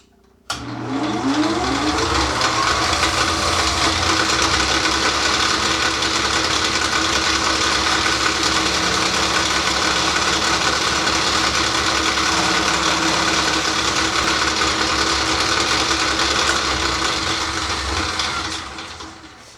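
A wood lathe turns new record player legs while an oval skew shaves the wood, a steady loud motor drone with a constant whirring cut that starts abruptly and runs nearly twenty seconds.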